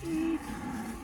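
A cow in a pasture lets out one close, loud moo with a steady low tone that trails off into a rougher grumble against outdoor background noise.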